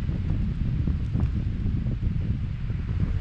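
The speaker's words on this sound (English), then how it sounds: "It's windy out here today." Wind blows across an open floodplain mound in Florida, a steady low buffeting roar against the microphone with faint rustling, loud and continuous with no talking.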